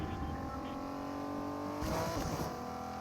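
Car driving in the Fortnite video game, a steady engine drone that swells louder near the end.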